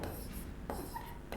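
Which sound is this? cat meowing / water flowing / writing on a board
writing on a board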